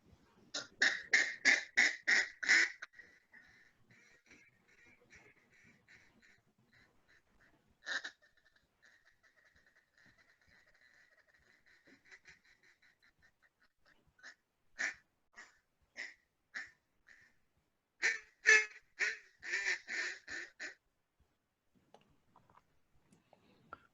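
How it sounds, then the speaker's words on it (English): A duck call blown by a call maker gives short bursts of raspy, quack-like notes: a quick run at the start, a lone blast midway, then a longer series of rhythmic quacks, with quiet gaps between. "He's about to give us a little sound bite on a duck call."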